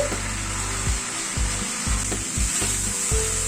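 Chicken is stirred and fried in a pan, giving a steady hiss of sizzling with a low rhythmic scraping and rumble as the pieces are pushed around, close and continuous.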